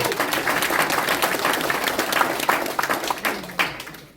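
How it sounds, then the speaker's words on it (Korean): Dense applause from people gathered at a party merger press conference, steady clapping close by that thins and scatters toward the end. "박수 한번 주세요."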